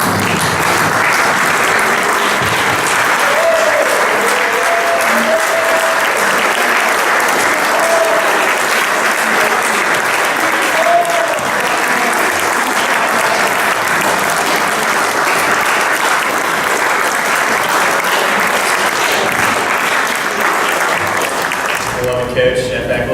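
A banquet crowd at the 2018 LSU lacrosse banquet gives a coach a standing ovation, with loud, dense, sustained clapping that holds steady throughout and only a few faint voices mixed in.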